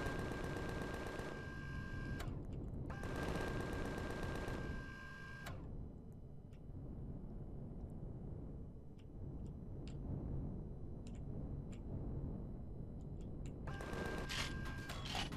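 Automatic gunfire in the space survival game Empyrion Galactic Survival comes as rapid, rattling bursts of repeated shots, first in long volleys, then over a busy rumbling game soundscape, and again in a final burst, with no talking.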